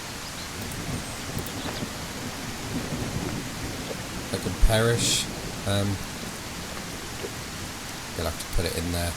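Steady rain hisses over a survival camp in the woods while someone talks near and close at hand, with a few louder knocks and thumps of handling gear in the middle and near the end.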